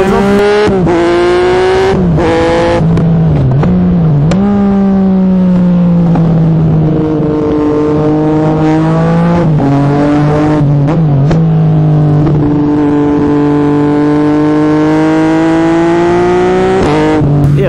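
A Yamaha MT-09 motorcycle fitted with an Akrapovic carbon exhaust revs and accelerates loudly through several rising pulls, with sharp gear shifts between each climb and a long final surge.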